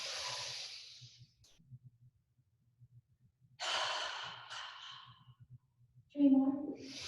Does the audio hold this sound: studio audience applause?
no